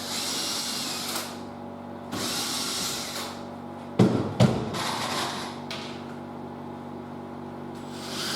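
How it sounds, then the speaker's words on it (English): A power drill with a 2mm bit whirs in several bursts, starting and stopping, with a couple of sharp knocks midway as the bit bites into the end of an MDF board. "just a 2mm drill down into the end of that MDF"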